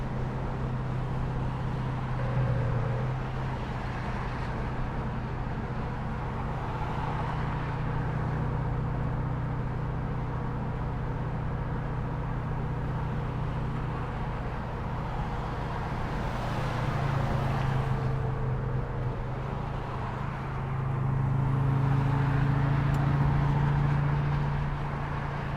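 Hemi-swapped 1971 Dodge Challenger cruising on the freeway at about 70 mph, a steady low engine drone and road rumble holding throughout, swelling slightly louder near the end.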